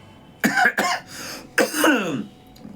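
Two quick coughs, then a longer rough throat-clearing cough, close to the listener, with no speech around them.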